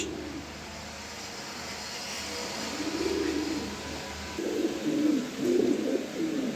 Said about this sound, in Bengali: এক পেয়ার কোয়ালিটিফুল রেড চেকার কবুতর দিলাম